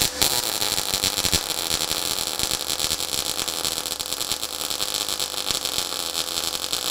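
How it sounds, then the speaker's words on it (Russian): A Resanta SAIPA 220 Synergy semi-automatic welder lays a flat-position T-joint weld, the arc burning weakly on poorly heated metal. It gives a steady, loud, close crackling hiss with fine irregular pulses for the whole stretch, and no one talks over it. "для демонстрации я попробую поварить тавром соединение."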